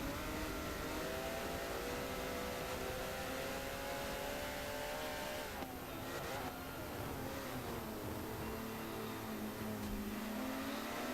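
Porsche Cup race cars howl loudly and steadily through a corner, several engines layered with a shifting pitch that dips briefly around the middle and builds again, continuous and close with no talk.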